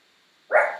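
A single short, moderately loud dog bark indoors, arriving abruptly after near silence and trailing off briefly.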